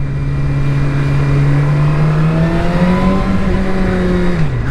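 A Suzuki GSX-R750 L0 motorcycle engine idles close by and then revs, its pitch climbing and holding high before dropping back, with a steady loud tone throughout.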